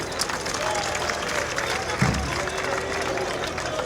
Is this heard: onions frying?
no